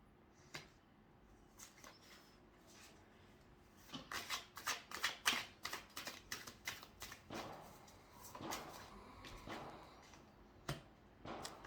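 Tarot cards being handled and shuffled, with quiet sliding at first, then a quick run of crisp riffling flicks and slaps up close, easing into scattered card taps near the end.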